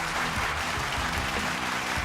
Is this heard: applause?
yes